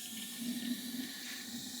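A tap being opened on the water tank of a sauna stove, releasing steam: a soft, steady hiss and rush of water and vapor with a brief murmuring swell near the start, fairly quiet and with no voices.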